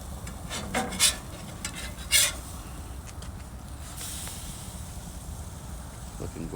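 French toast flipped on a Pit Boss Platinum KC Combo grill griddle, with a few brief scraping clatters of the spatula over a steady low sizzle.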